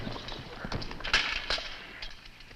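Horses' hooves clip-clop at an uneven walking pace on hard ground in an old western drama, the clopping fairly close with a faint background hiss and no talk over it.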